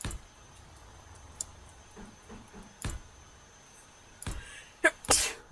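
A single sharp sneeze bursts out near the end, preceded by a few soft clicks and faint rustles in an otherwise quiet room.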